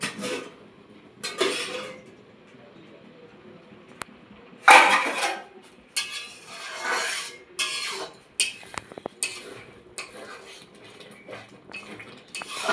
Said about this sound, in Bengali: আমি ঢাকাটা তুলে দেবো, দিয়ে দেখবো ডালটা সেদ্ধ হয়ে গেছে কিনা